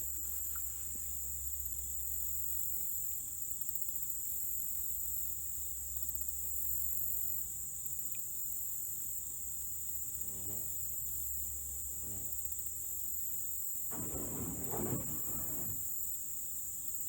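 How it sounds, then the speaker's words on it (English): Flying insects drone at night in a steady chirping, buzzing backdrop, with occasional closer buzzy passes rising briefly above the constant high-pitched whine. "Flying insects."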